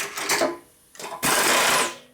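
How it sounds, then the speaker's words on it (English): A reamer is worked by a machine into a Harley twin cam engine case, giving close, loud bursts of whirring cutting noise with a short pause between them. "So we'll just use a reamer for that."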